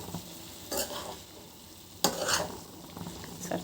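Chicken curry is stirred in a pan, with a quiet sizzle of frying underneath and a few scraping strokes of a spoon against the metal in short bursts.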